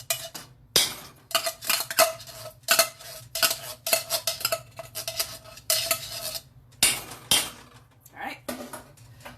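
Cooked pumpkin flesh being scraped out with a metal utensil, a series of close, irregular scraping and clinking strokes against the bowl or shell, with brief pauses between bursts.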